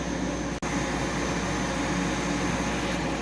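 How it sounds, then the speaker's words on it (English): A vacuum cleaner picks up debris during a paint can storage build, a loud, steady whooshing roar that cuts out for a split second before carrying on. "While I'm over here, I'll just vacuum that up real quick"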